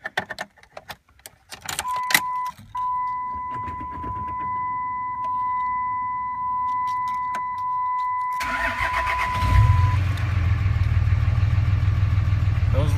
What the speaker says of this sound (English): start it up for you, let you hear it run